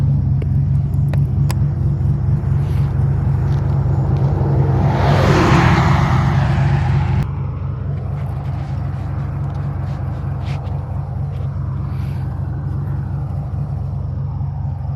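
Twin-turbo OBS street truck engine idling while it warms up, a steady low rumble close by with a brief swelling whoosh midway, then a slightly quieter, even idle.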